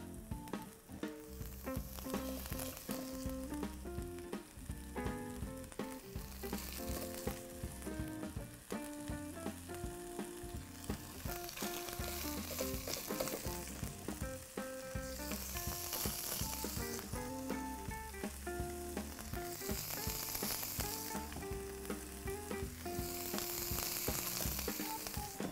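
Pieces of veal sizzle and fry steadily in a pan with onion and garlic, a continuous crackling hiss with occasional stirring, while background music plays throughout.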